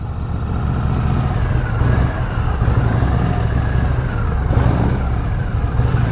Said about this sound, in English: Engine's cold, fires right up.